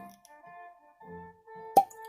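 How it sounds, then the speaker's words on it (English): A cork pops out of a bottle of St George rye gin with one sharp, close plop after a quiet stretch of faint handling sounds. "So here we go with the cork pop test."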